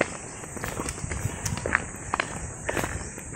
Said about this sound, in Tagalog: 10 minutes na tayong naglalakad.